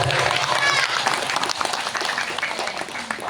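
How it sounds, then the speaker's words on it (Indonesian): An audience claps at a Maulid Nabi celebration, a dense, sustained wash of applause filling the room for a few seconds with crowd noise mixed in. "Tepuk tangan untuk kita semuanya."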